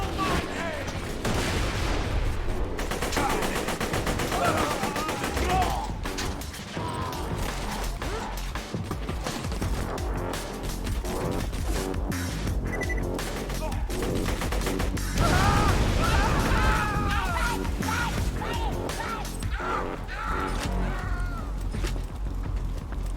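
Chaotic Borderlands 2 firefight: dense gunfire and crashing bursts pile up continuously, with a thrown grenade's heavy blast standing out around the middle, loud and close throughout.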